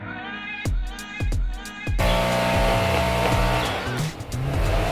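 Busy, noisy street traffic with a steady roar of passing cars that swells and stays loud after the first couple of seconds, broken by several sharp knocks early on, with no talking.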